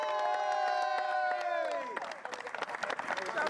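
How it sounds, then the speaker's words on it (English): Crowd cheering and whooping for the London Sunday Junior Cup champions Sporting Continental at a football cup final, sustained shouts giving way to scattered clapping and cries from a fairly distant group. "Give a massive round of applause for 2020 London Sunday Junior Cup champions"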